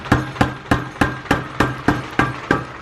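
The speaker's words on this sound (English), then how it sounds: "We need to hammer it in more." Hammer blows ring out on a part during a V6 engine swap into a Toyota MR2, about ten sharp, evenly spaced metallic strikes close by, each with a brief ringing tail and no talk.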